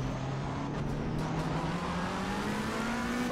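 Ferrari race cars in the Assetto Corsa Competizione racing game rolling off the start, a steady loud engine drone with one engine's pitch gradually rising under the dense pack of cars.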